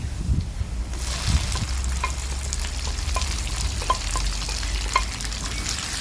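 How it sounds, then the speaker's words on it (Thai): Pickled mustard greens and garlic hiss in a hot pan as they are stir-fried, a steady close sizzle with scattered scraping and clicking from the spatula throughout. "กระเทียมเริ่มเหลืองเราก็จะเอาผักกาดดองลงไปนะคะ ใส่ลงไปเลย"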